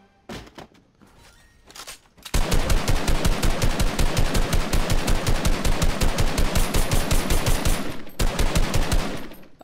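Rapid automatic weapon fire in Fortnite Creative: a couple of quiet clicks, then a loud, sustained fast burst of shots for about six seconds, a brief break, and a final short burst.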